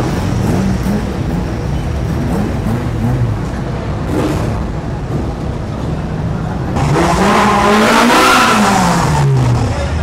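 Cars cruise past and rev hard at a busy Thai car show. Engines rumble continuously, with a louder revving car sweeping by near the end and crowd noise underneath.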